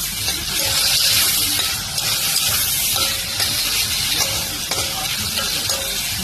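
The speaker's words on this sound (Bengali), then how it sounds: "এই চিংড়ি মাছ ভাজা হচ্ছে, এটা তরকারি করবো।" Shrimp frying in a pan, a steady broadband sizzle and spatter running throughout with faint stirring clicks, close and continuous with no talk.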